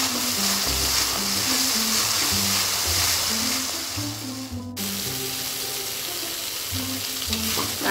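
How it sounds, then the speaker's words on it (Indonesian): Ground spice paste sizzles steadily in a hot pan as it is sautéed for Indonesian acar kuning with cucumber and carrot, a loud continuous frying hiss with a brief dip midway and background music underneath. "Kita tumis bumbunya sampai bumbunya tanak ya ibu"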